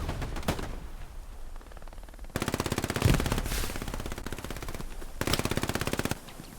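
A PPSh submachine gun with a drum magazine fires in Hell Let Loose, long rapid automatic bursts with a fast, even rattle, loud and near, separated by quieter gaps with distant shots.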